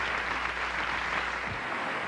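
A studio audience at a 1986 Emmy awards telecast applauds steadily, a continuous wash of clapping at moderate level with a brief low thump near the end, no voices.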